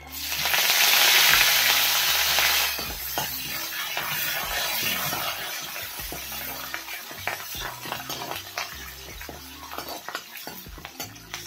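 Curry leaves dropped into hot oil for poha chivda, a loud hissing burst of frying that settles into steady sizzling with frequent metallic stirring clinks against the pan, close and without talk.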